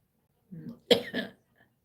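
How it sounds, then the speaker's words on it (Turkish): A short burst of coughing, two or three close, harsh coughs in a quiet room. "Baksana bayağı öksürüyor."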